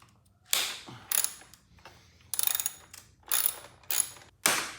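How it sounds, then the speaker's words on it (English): A wrench and socket ratchet away at the fender bolts on a 2017-2019 Honda CBR1000RR motorcycle, giving six distinct bursts of clicking with short pauses between them, close and fairly quiet. "So put a wrench on one side and then a socket on the other, get them free."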